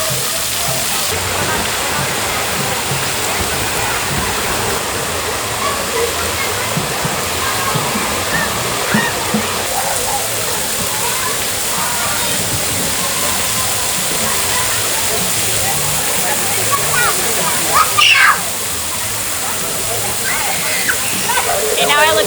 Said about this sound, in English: There they are, the water drums.